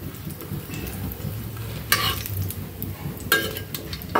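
Meat sizzles and fries steadily in a pan over a low gas flame, with a few louder stirring scrapes breaking through the continuous crackle.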